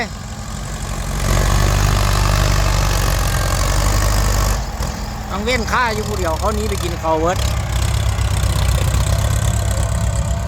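A tractor fitted with a blade, stuck in mud, idles nearby with a loud, steady low rumble throughout, while people talk over it.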